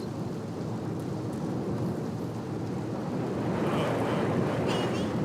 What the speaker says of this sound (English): running around in a thunderstorm here